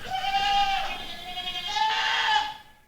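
Goats bleat in a 4-H farm barn, two long wavering calls close by, one after the other with a short gap, with no talk over them.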